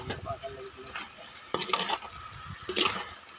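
Momo vegetable stuffing mixed in a bowl, giving a few close, wet stirring and scraping sounds in short bursts with light clinks of a utensil against the bowl.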